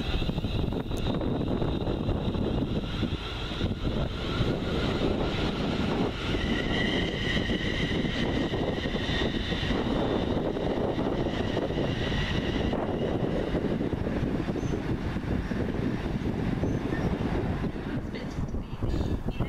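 A West Midlands Railway passenger train rumbles steadily close by at Rugeley Trent Valley station for the whole stretch, with broadband rolling noise and faint high squeals of brakes or wheels on the rails.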